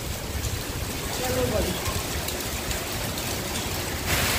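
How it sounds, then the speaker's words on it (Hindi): Steady, dense hiss of heavy rain pouring down close by, a constant wash of noise with a brief voice-like murmur partway through. "बारिश कितनी तेज हो गई देखो"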